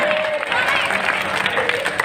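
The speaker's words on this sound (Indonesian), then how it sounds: "Woi, tepuk tangan" Audience clapping during an Islamic talk, a dense, continuous patter of many hands filling the room at steady loudness, with faint voices underneath.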